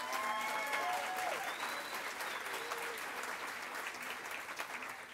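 A room full of people at an award ceremony claps steadily, a dense wash of applause that holds for several seconds, with faint voices mixed underneath.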